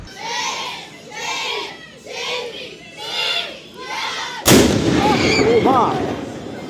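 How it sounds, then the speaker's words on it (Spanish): Zagreb's daily noon cannon fires a single sudden, loud blast that cuts abruptly through rhythmic crowd chanting and shouting, followed by a dense, echoing roar as the shot rolls away amid the crowd noise. "Este cañonazo que ha asustado tanto a Sara se lleva haciendo desde 1877 a diario a las 12 del mediodía"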